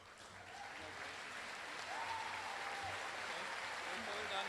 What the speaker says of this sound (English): Hold on clapping.